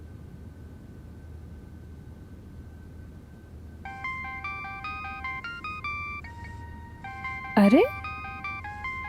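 A phone ringing in a Hindi crime drama: a melodic electronic ringtone plays a repeating tune of short tones over a low background hum, loud and close, with a brief vocal exclamation near the end.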